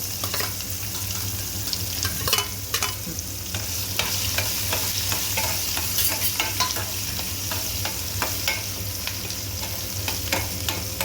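Onions frying and sizzling in a pan with salt, while a spoon stirs and scrapes steadily over a constant hiss, close and fairly loud, with no voices.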